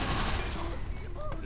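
Rapid gunfire in the zombie shooter video game Left 4 Dead: a dense burst of bursting shots, fairly faint, with a voice murmuring underneath.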